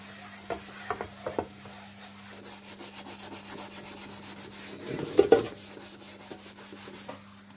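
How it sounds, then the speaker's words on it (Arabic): A pan being scrubbed clean with dish soap to remove burnt residue, a close, repetitive rubbing with soft scraping strokes and a few louder knocks and clatters. "هبتدي انزل فيها بشوية سائل مواعين وهبتدي اغسل الطوة بتاعتي كده كويس"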